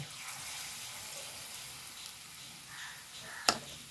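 Small spoonfuls of banana batter fritter fry in hot oil on a medium flame, giving a soft, steady sizzle, close up, with one sharp clink of a utensil near the end.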